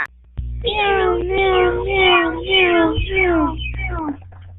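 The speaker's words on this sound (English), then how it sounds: "And all the hundreds of cats. Thousands of cats. Millions. And billions and trillions of cats." Loud, close cat meowing: a run of about six drawn-out, rising and falling meows in quick succession, heard alone over a low background hum.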